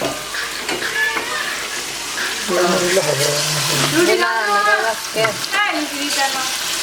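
Meat drops into spice masala already sizzling in a pan, and the frying hiss and stirring continue under a voice speaking over it.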